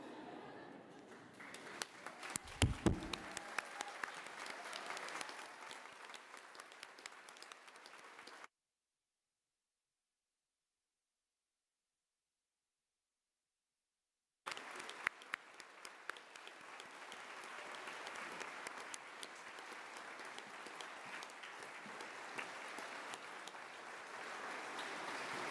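Graduates at a nursing and midwifery graduation ceremony applaud at length, a dense, steady wash of clapping that drops out entirely for several seconds midway, then resumes.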